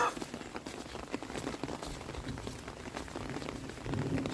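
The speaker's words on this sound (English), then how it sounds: "Everybody else is loving this rain because we haven't had rain in so long." Rain falling outdoors around a yard with ducklings and chickens, a steady patter of drops on surfaces that stays fairly faint and continuous, with scattered louder splats and no voices.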